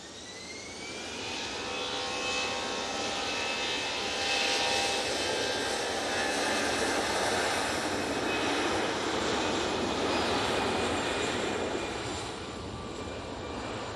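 EasyJet airliner passing close in front at Manchester Airport, its jet engines a loud, sustained roar with a whining tone that swells and then eases slightly, heard alone without talk.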